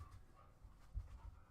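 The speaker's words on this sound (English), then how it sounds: "Sorry the dog is playing with her tail." A dog pants and snuffles close by while chasing her own tail indoors, with soft low thumps and breathy bursts in an uneven rhythm and a slightly louder scuffle near the end.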